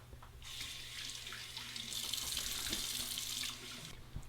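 Tap water running into a sink while shaving lather is rinsed off a face, a faint steady splashing that swells in the middle before easing off near the end.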